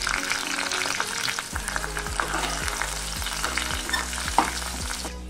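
Mustard seeds, cumin, green chillies, curry leaves and masala frying in oil in a pan for stuffed brinjal curry, a loud close sizzle with rhythmic stirring scrapes throughout.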